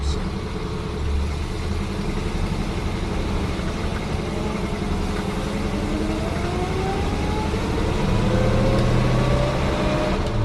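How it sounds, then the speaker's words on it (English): A 1936 Cord Westchester engine runs steadily on a drive around a neighborhood, a continuous low rumble with gear-shift pitch sweeps, close and moderately loud throughout. "Today we're going to take a ride around the neighborhood in our 1936 Cord."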